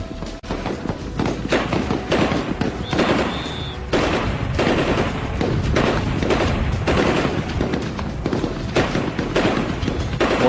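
Gendarmerie special intervention snipers fire their weapons on a shooting range in dense, rapid volleys of sharp, loud gunshots, with bursts and single cracks overlapping in near-continuous bangs and short gaps between them.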